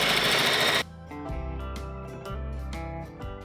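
A sewing machine top-stitches stretched elastic on a tiered skirt: a loud burst of whirring opens, then quieter, rhythmic mechanical stitching runs close-up in several short runs.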